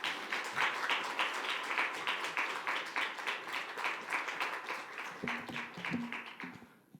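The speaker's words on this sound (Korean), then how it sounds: "우리 선교사님 올라오실 때 환영의 박수 드리겠습니다" A church congregation gives a missionary a welcoming round of applause, a dense wash of clapping that holds steady and then thins out and fades toward the end, with a few brief low sounds near the close.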